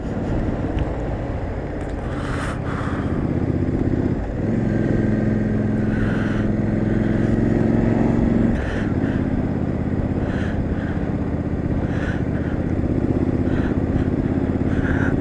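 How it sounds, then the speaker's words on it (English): A 2017 Triumph Street Scrambler engine drones steadily on a test ride through a 30 limit, with shifts in pitch as it eases and pulls, close and continuous under wind rush. "The engine note is very pleasant."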